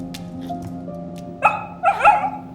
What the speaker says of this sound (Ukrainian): це собака? Так, бігля.